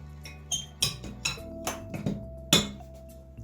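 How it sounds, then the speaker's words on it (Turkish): A hand whisk clinks and taps against a bowl in irregular strokes, sharp metallic knocks separated by short pauses, fairly close. "El çırpıcısıyla devam edeceğim."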